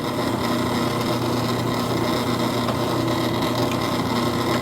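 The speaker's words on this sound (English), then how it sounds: "I'm gonna go ahead and drill it." Power drill boring into a 51-inch drive shaft during repair, a steady dense whirring grind running continuously and loud throughout, with no talking.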